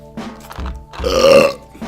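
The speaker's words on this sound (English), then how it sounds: "you're a beast with the burps" A loud, close burp of about a second and a half, drawn out and rising, preceded by a few short throaty bursts, with no talk over it.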